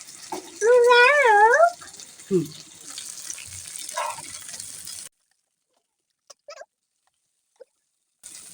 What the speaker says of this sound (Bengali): আর এদিকে আমাদের বেগুন ভাজাও হয়ে যাচ্ছে